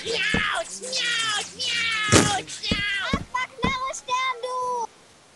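Meowth in the Minecraft video game gives a quick run of voiced, cat-like meowing cries, several in a row, close and clear, ending abruptly.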